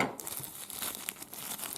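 Crinkly tearing and rustling of a mail package wrapped in too much tape as it is pulled open by hand, continuous and close.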